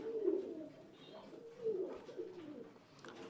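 A pigeon coos in a low, throaty, rolling rhythm, two or three soft phrases close by, with no talking.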